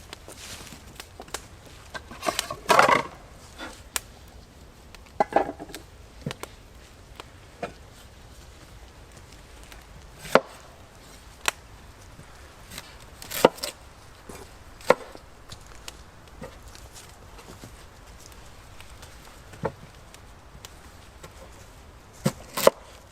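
A knife chopping fresh tomatoes, an onion and garlic on a board while cooking a sauce outdoors in a forest: sparse, irregular sharp taps and thuds, some in quick clusters, spread over long quiet gaps.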